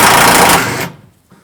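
A power tool rattles loudly in a fast continuous burst while removing a 13mm tailgate hinge bolt on a 1999-2007 GMC Sierra, then cuts off abruptly into near silence.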